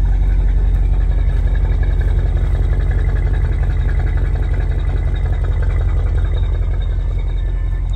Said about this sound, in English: So you can hear it when this car is ticking over.